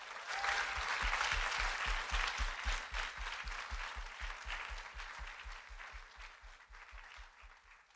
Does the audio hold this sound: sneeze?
no